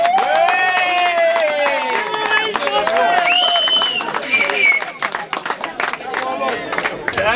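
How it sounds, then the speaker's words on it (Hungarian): A large crowd claps and cheers in sustained applause at an outdoor BMW club meet in Dombrád beside the Tisza river, with voices mixed into the clapping before it thins out near the end. "Egy nagy tapsot létszíves mindenki, adjátok meg nekik, mert nagyon jó csapat."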